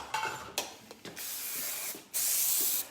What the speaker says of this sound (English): I can add some texture spray